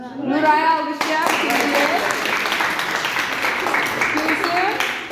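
Children clap for the winner of a biology terms quiz in a classroom, a dense burst of applause that runs steadily after a brief spoken opening.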